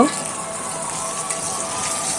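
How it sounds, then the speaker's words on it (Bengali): Rohu fish fries in oil with a constant, even sizzle and fine bubbling hiss, close and steady throughout with no talk over it. "তো আমরা নর্মালি যেরকম মাছ ভাজি করে খাই ঠিক ওই রকমটা করে আমি এখন এটা ভেজে নেব"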